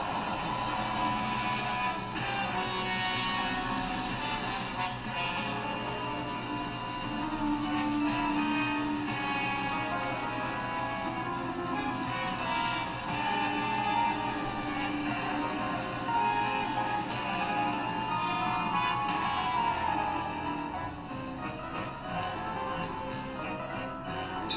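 Opening music from The Sandminer episode, played back and picked up through a microphone, sounding thinner than the original; a dense, steady score runs continuously at moderate loudness for the whole stretch.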